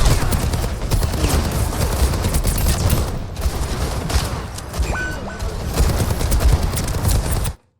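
Soldier fires his weapons in Overwatch, rapid bursts of gunfire layered with heavy booms that run nearly the whole time, then cut off abruptly at the end.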